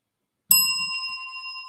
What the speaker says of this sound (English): Rick, how come I didn't get a first Rick bell?